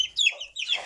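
A hen in a rural farmyard gives two short, close, high clucks in quick succession, faint and alone.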